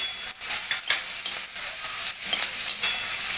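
Onion and cashews sautéing in a pan for a hotel-style veg Kolhapuri, a steady close sizzle broken by repeated scraping stirs, no voices.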